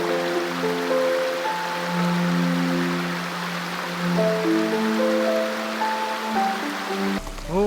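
Water from a small roadside spring in winter Altai, near the village of Maktash, pours steadily into a container, a close rushing flow whose ringing tone climbs gradually as the vessel fills, before it is cut off near the end.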